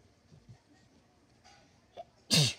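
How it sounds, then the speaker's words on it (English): A single loud, close sneeze bursts out near the end, after a quiet stretch with a few faint shuffling noises. "I had to sneeze"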